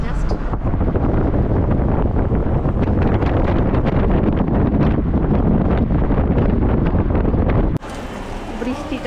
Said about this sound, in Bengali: এখানেই এরকম বৃষ্টি শুরু হয়েছে